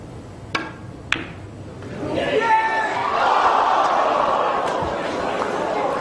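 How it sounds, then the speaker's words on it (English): A large snooker crowd at the 1985 World Championship final reacts with a swelling murmur of chatter and excitement after a couple of sharp knocks, sustained and fairly loud. "Just listen to the crowd; they're remarkable."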